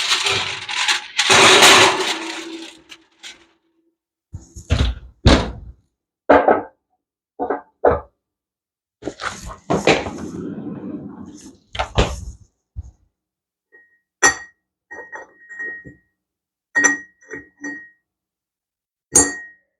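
A bearing race being tapped into a Piper Tomahawk PA38 nose wheel half in a workshop, a series of sharp metallic taps and clinks spaced irregularly, some softer scraping between, close and clear with no talking.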